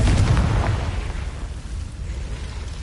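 A Confringo spell detonates in the video game Hogwarts Legacy with a loud, deep explosive boom that hits at once, then rumbles and fades over a couple of seconds.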